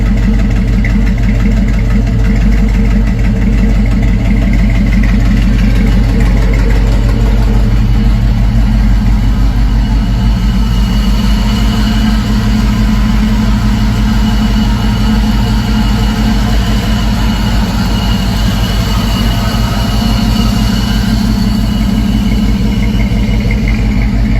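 A 6.0-liter LS V8 with a smooth camshaft, swapped into a 1979 Ford F150, idles loud and close, a deep, steady, throbbing rumble with a slightly aggressive lope that holds without a break.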